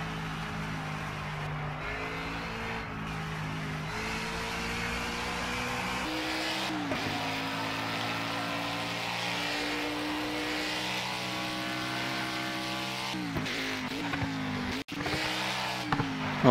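Ford Mustang Boss 302R1 race car in Project CARS lapping Imola, its engine droning steadily with rising and falling pitch through gear changes, loud and close, with a few sharp shifts and brief tire noise.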